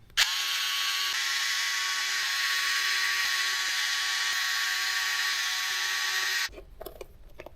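A small electric driver with a 1.5 mm hex bit backs out beadlock screws on a Redcat Ascent RC crawler wheel, whining steadily and close for about six seconds before cutting off.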